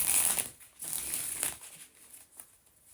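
Tarot cards are shuffled by hand close by, giving soft papery riffles and slides in a few short bursts with quiet gaps between, faint overall and with no talking.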